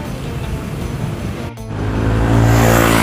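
Road traffic on 38th Street in BGC: a steady wash of vehicle noise, with an engine swelling louder and deeper toward the end, no voices.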